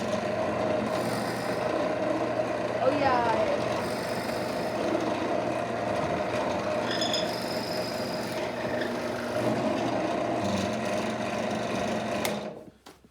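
Central Machinery benchtop drill press boring into wood, a steady whirring motor hum with grinding, rasping bit contact throughout, ending abruptly as the machine stops; a brief spoken remark in the middle.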